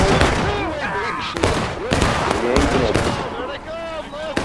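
Musket fire in the Civil War game War of Right: several sharp, booming shots crack out at irregular intervals over a noisy battlefield, while players talk over the gunfire.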